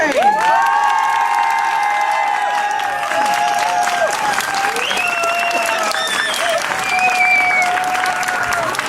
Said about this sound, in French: C'est maintenant avec vos cris, vos applaudissements. Applaudissez!